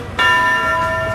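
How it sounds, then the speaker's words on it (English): Big Ben, the 13-ton hour bell in the London clock tower, strikes once loudly after a brief quiet, its bright ringing partials sustaining and slowly decaying with no talk over it. "It's actually the 13-ton bell that rings on the hour, every hour, 24 hours a day inside the tower."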